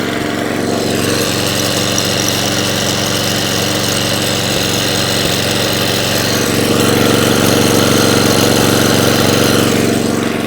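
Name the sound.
Atco cylinder lawn mower running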